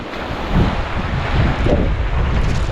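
Sea waves wash continuously against the coast at Malabrigo Lighthouse in Lobo, Batangas, loud and close, mixed with heavy wind buffeting the microphone and no speech.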